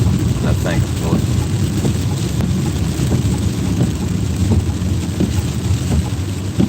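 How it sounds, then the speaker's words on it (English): Heavy rain pours down outdoors in a steady, loud wash with wind buffeting the microphone, a constant roar with a few sharper gusts and no voices. "Y'all hear that rain, folks, coming down out there?"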